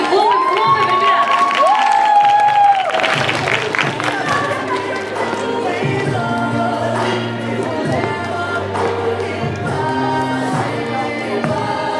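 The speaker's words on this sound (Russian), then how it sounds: "Хлопаем, хлопаем, хлопаем, ребят!" Festival audience at an awards and closing ceremony clapping and cheering loudly throughout, a dense crowd roar with shouts, while music plays underneath.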